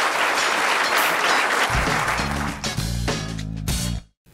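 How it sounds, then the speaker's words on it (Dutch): A large audience in a hall claps loudly and steadily, then the applause gives way to music entering underneath before everything cuts off abruptly. "En je krijgt nog een heel groot applaus."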